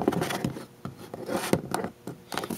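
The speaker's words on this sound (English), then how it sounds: "the stickers are just peeling right off this" Stickers being peeled off a brass Zippo lighter make close, dry scratchy rips and rubbing in a few short bursts with pauses between them, with no talk.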